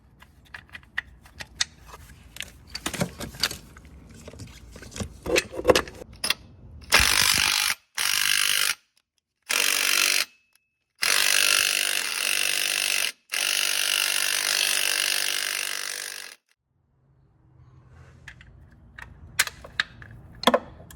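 A ratchet loosens a bolt during removal of an Audi 2.0T TFSI engine, giving quick close clicking strokes, then several loud sustained bursts of mechanical tool noise separated by short silences, with no talking.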